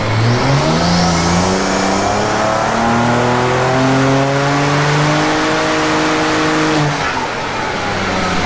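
A BMW 335i engine accelerates hard on a dyno, a loud, close, continuous roar climbing steadily in pitch through the gears for about seven seconds before easing off.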